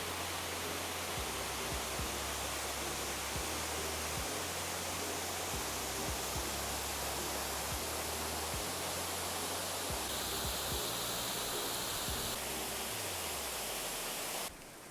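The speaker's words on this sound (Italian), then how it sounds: "Vai, abbiamo beccato la cascata di Salino." The Salino waterfall in Friuli roars loudly and steadily, a dense, unbroken rush of falling water close by with no voices over it.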